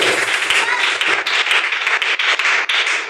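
A church congregation bursts into dense, loud applause, a continuous wash of clapping hands lasting a few seconds.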